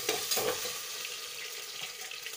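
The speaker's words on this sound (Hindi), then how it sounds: "इसके बाद आलू डाल दी हूँ और चला ले रही हूँ" Sliced potatoes sizzle and crackle steadily in a hot pan, with a few louder scraping stirs near the start, close and continuous with no talking.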